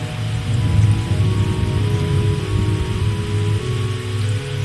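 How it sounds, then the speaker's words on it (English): Steady rainfall on a surface, a dense continuous hiss with low rumbling texture that holds evenly throughout, fairly close and moderately loud, with no voices. "The rains have come"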